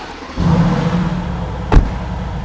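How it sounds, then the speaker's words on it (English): A 2017 Mercedes-AMG GT C starts up close by: a short crank gives way to a loud, steady idle, broken by one sharp revving burst partway through. "I'm going to fire the car up and we're going to show it to you now"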